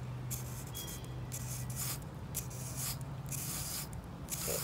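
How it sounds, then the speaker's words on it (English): A spray bottle mists water onto a small grasshead, with several quiet, close hissing bursts in uneven succession and no talking. "she is going to water that again with the spray bottle"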